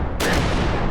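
A loud explosion-gun sound effect bursts in suddenly, a single sharp blast with a booming, gunfire-like roar that fills the moment and then rings on briefly.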